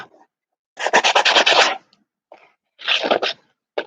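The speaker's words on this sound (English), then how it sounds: "I got to use the fine sandpaper anyway too" Fine sandpaper rubbing a homemade wooden sliding-door handle outdoors: two short bursts of quick, rhythmic rasping strokes close by, with brief quiet gaps and faint knocks.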